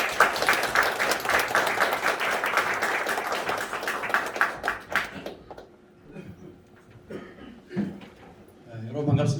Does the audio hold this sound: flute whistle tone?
no